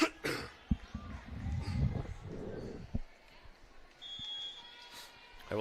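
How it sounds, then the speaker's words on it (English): A volleyball commentator coughing and clearing his throat near the microphone, a few short rough bursts against a quiet gym background with faint beeps. "I will again apologize for the coughing and clearing of the throat here."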